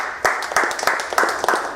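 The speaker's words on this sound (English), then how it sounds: "Let's give him a round of applause." A short burst of hand clapping from a small group, uneven and fairly close.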